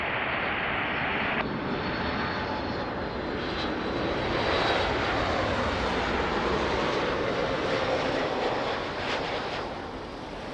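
An airliner approaching Lisbon Airport's runway 02 roars steadily and loudly as a broad, continuous engine rush that swells slightly midway and eases toward the end.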